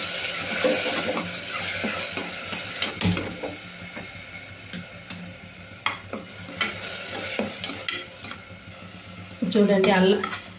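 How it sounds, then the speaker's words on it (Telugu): Onions frying in oil in a pan while being stirred, with a steady sizzle broken by repeated metallic scrapes and clinks of the spoon against the pan, close and fairly loud, no talk. "చూడండి ఉల్లిపాయనైతే ఇట్లా కలుపుతా వేయించుకోవాలండి."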